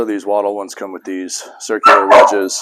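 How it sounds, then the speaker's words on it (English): Dog barking repeatedly in the background of a workshop while someone talks over it, the barks sharp and close, interleaved with his speech. "She's over there barking because I'm not paying attention to her."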